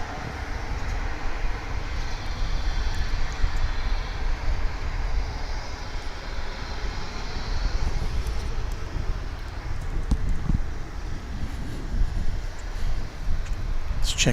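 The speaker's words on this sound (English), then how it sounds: "That, of course, an Embraer 175" Embraer 175 airliner at DFW International Airport, a steady low engine rumble and broadband noise that hold at a constant level throughout, fairly distant, with faint radio chatter and crackle mixed in.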